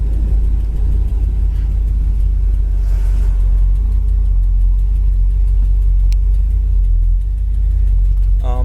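A 1969 Chevrolet Nova SS engine runs warm at a steady idle, a close, loud, continuous low rumble with no revving.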